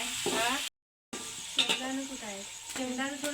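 Chana dal frying in hot oil, a soft crackling sizzle with occasional stirring clinks running under a person talking, briefly cut to silence near the start.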